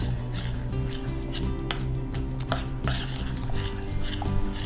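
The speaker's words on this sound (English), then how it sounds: "We're going to add our gelatin now. Okay, we're going to give it a stir" Gelatin stirred into freshly boiled cream in a pot makes steady, close, repeated clinks and scrapes against the pot, with a constant low hum underneath.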